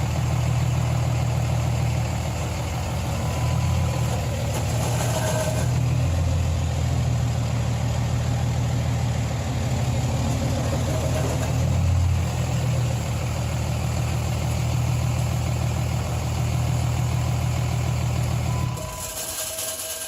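A vehicle engine with a faulty clutch idles steadily and loudly at close range, a deep droning hum that holds with small shifts before cutting off abruptly near the end.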